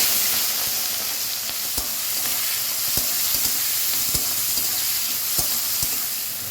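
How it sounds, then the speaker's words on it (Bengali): Prawns fry in hot mustard oil with a steady, close sizzle, broken by sharp pops and spits that crackle at irregular intervals; no voices. "সর্ষের তেল দিচ্ছি তেলটা গরম হয়ে গেছে চিংড়ি মাছ ভালো"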